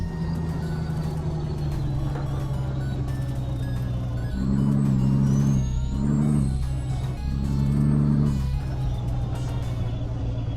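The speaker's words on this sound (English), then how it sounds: "It's just, it's a weird engine sound." Deep, droning diesel engine of a Peterbilt 389 truck in Euro Truck Simulator 2, a steady low hum that swells in several revving surges before settling back to a constant idle-like drone.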